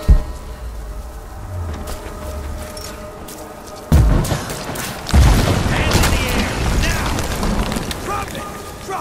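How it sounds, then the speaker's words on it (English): Gunfire breaks out in Rise of the Tomb Raider, with sharp booming bursts and a sustained volley of shots after a loud opening impact. Voices shout in the middle of the firefight. "Under fire! Shots fired!"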